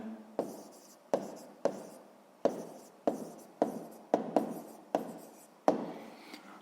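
A pen writes on paper in a quiet room, a run of about ten short strokes, each starting with a sharp scratch and trailing off, close and soft with no talking.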